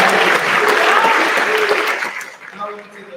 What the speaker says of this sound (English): can everybody get a big round of applause?